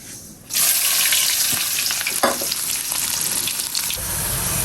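Sliced onions and green chilies hit hot oil with cumin seeds for a fish bhuna, bursting into a loud, steady, close sizzle that holds without any talking.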